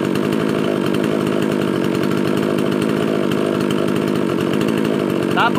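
A mini chainsaw engine runs continuously at a loud, buzzing high idle during carburetor tuning, heard close up with a steady rapid two-stroke rattle.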